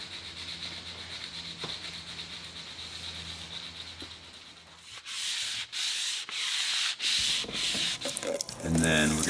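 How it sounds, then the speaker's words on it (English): A wooden mizzen mast on a wooden boat being sanded by hand with 80 grit sandpaper, faint at first, then loud close rhythmic rasping strokes in quick succession, with no speech. "we're gonna take a little bit of 80 grit sandpaper and just kind of give it a"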